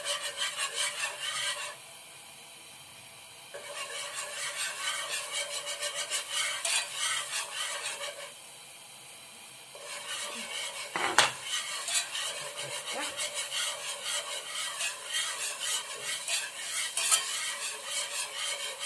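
A flour and butter roux is stirred in a pan, giving a steady scraping, rasping stir with a soft sizzle. Two short pauses break it, and one sharper knock comes near the middle.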